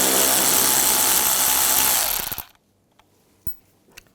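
Power tool with a T25 socket spinning out a bumper bracket bolt on a 2011-2018 Volkswagen Jetta: a loud, close, continuous whir for about two seconds that winds down, followed by a few light clinks.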